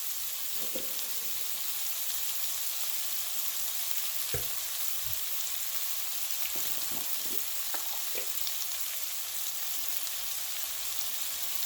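Curry leaves sizzle in hot oil for a spicy curry of garden tomatoes, giving a steady, fairly quiet frying hiss with a few soft pops and light stirring knocks scattered through it.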